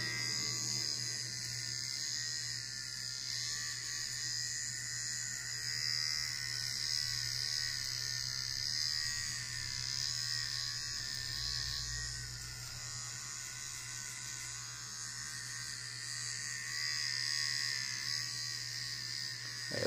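A Kemei KM-1974A electric hair clipper buzzes steadily and close up while trimming a beard, a constant high whine with a low hum beneath it and no talking.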